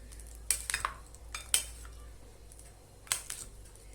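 A utensil stirs winter salad in a bowl, giving a few sharp clinks and scrapes spaced out over a few seconds, close and fairly quiet, with no talking.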